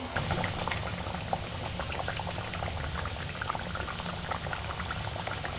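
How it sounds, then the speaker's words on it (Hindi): Potato pieces deep frying in hot oil without any coating, a dense continuous bubbling and crackling sizzle that stays steady and close throughout. "मैं विदाउट कोटिंग फ्राई कर रही हूँ"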